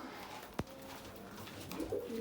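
A runaway pigeon on a balcony gives a single close coo, set against faint background noise and a few soft rustles.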